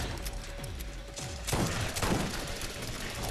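A boss in the Borderlands video game fires long-range shots, giving a steady burst of gunfire with louder cracks breaking through midway, fairly far off and muffled.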